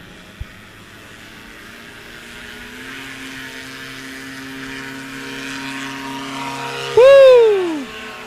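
A Chinook STOL aircraft on a short takeoff run at a STOL competition at Patriot Airpark: a propeller engine drone swells steadily, then a loud whooping cheer from a nearby voice breaks in near the end.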